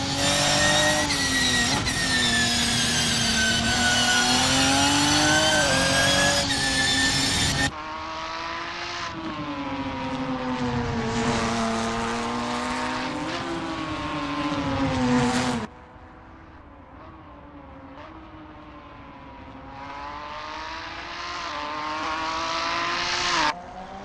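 Several Ginetta G55 race cars in the Assetto Corsa video game, racing at Knockhill. Loud buzzing engine notes rise and fall as the cars accelerate and shift, and the view cuts abruptly between cars at different distances.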